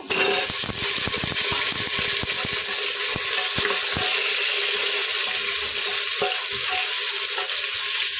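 Vegetables fry in oil in a pressure cooker for khichuri, giving a steady, loud sizzle with scattered crackles and occasional scraping from stirring.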